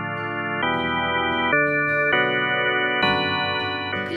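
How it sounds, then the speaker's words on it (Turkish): An electronic organ keyboard plays a series of sustained, steady chords that change every second or so. The notes are clear and even, with no talking. "Bu bir org. Orgun sesi böyle çıkar."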